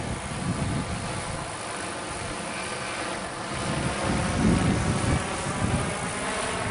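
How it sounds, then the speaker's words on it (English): Gusty wind blows snow straight across during a drone flight, a steady airy hiss and rush that swells louder toward the end, with a faint propeller whine mixed in. "We are getting some gusts because you can tell from the snow blowing straight across."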